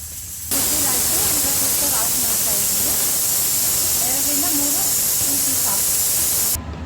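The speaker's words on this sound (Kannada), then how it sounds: "2 ವಿಸಿಲ್ ಕೂಗಿಸ್ತಾ ಇದ್ದೀನಿ" Steam hisses strongly and steadily from a pressure cooker cooking nati-style methi chicken, a loud continuous rush that starts abruptly and cuts off near the end, with a faint voice in the background.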